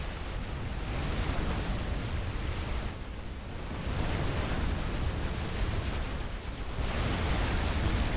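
Heavy bombs and mobile artillery pounding a building in Supreme Commander 2, a continuous loud roar of overlapping blasts with rumbling low end and brief dips between waves.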